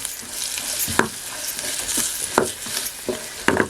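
Dry Bombay duck masala frying in a pan on a wood-fired stove, stirred in several distinct scraping strokes over a steady close sizzle.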